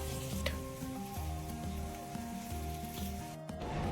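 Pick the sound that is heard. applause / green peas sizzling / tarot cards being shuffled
green peas sizzling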